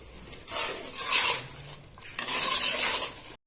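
Eggplant, onion and tomato sautéing in a pan for kalyana kara kuzhambu, with a steady sizzle and scraping stirs that swell and fade in waves, close and fairly loud, no voices.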